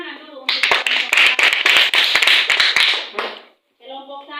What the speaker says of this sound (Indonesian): Kita beri tepuk tangan dulu untuk